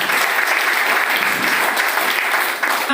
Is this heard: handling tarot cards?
no